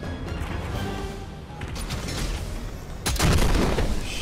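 Cannon fire in Fortnite comes as a deep, rumbling boom that swells near the end over a continuous low game background, loud and close.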